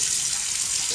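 Tap water pours steadily into a pressure cooker holding meat, a brief loud, even gushing splash.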